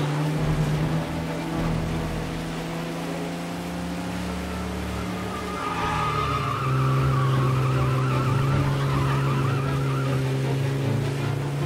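A car skids through a chase in Mafia: Definitive Edition, a steady engine drone under drawn-out tyre squeals that swell and waver midway, loud and continuous with no talk.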